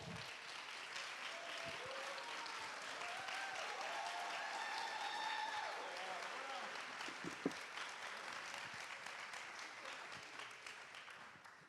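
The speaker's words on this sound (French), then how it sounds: "un tonnerre d'applaudissements pour Florent" Sustained applause from a sizable crowd welcoming a speaker at an entrepreneurship talk, loud and steady throughout with dense overlapping claps.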